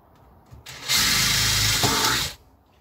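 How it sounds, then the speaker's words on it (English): A power drill bores a quarter-inch hole through a Les Paul–style guitar body: a loud, steady whirring grind of about a second and a half, starting and stopping abruptly, with no talk. "I'm going to drill through with a quarter inch"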